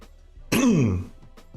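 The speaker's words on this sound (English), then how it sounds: "I had to clear my throat, excuse me." A single loud throat clearing, a short rasping burst that fades out, with quiet surroundings before and after.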